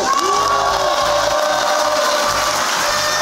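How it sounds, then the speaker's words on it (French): A large crowd at an event cheers and applauds loudly and continuously, with shouts and whoops over sustained clapping. "Eh, applaudissez là!"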